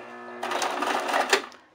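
A sewing machine runs briefly while backstitching crepe paper, a close, rapid mechanical whir of stitching that starts abruptly and stops after about a second and a half.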